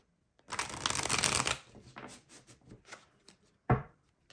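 Tarot cards shuffled up close: a loud riffling burst, then softer taps and slides as the deck settles, ending in a single sharp knock of cards on a surface.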